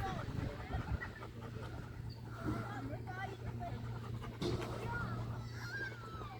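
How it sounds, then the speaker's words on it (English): A small pet dog panting rapidly and steadily close by, with a person speaking softly over the breathing. "You cute little dog, Suzie."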